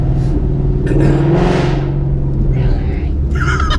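A modified 2015 Ford Mustang GT engine rumbles and revs close by, a deep steady drone that swells briefly, with a voice speaking over it.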